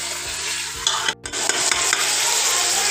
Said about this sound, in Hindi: अगर इसको एक सेकेंड में भून के मैं चिकन डाल दूँगी।